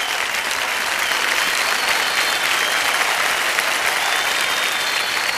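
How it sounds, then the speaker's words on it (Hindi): A studio audience at a televised quiz show claps loudly and continuously, a dense, even wash of applause filling the whole stretch with no voices on top. "जोरदार तालियां बज जाए विमल जी के लिए।"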